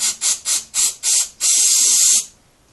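Brake cleaner sprayed from an aerosol can onto the carburetor of a Briggs and Stratton Flymo petrol lawnmower: five short hissing bursts, then one long steady blast that cuts off, loud and close with no talking.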